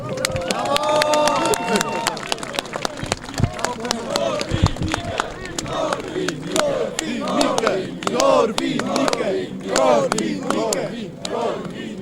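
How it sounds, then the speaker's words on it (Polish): A rally crowd cheers and shouts for Janusz Korwin-Mikke, the Polish conservative-liberal politician, at a Wake Up Europe event; loud whoops and yells with scattered sharp claps rise and fall throughout, voices calling out over the din. "Brawa!"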